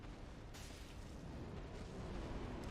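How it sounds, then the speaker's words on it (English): Midir, the dragon boss in a Dark Souls game, breathes fire in a continuous loud roaring rush of flame with a low rumbling body, steady throughout, starting with a sharper burst. "Breathes fire like that"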